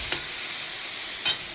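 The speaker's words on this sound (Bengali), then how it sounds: "এই যে লাউ ভাজা করছি" Bottle gourd frying in a pan gives a steady sizzling hiss, broken by two brief stirring scrapes, quiet and with no voices.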